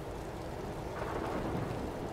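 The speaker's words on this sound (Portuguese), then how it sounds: "Mas olha esse som dessa chuva" Steady, dense rainfall with a low rumbling undertone from a realistic weather sound mod in Euro Truck Simulator 2, continuous and fairly loud throughout with no voices.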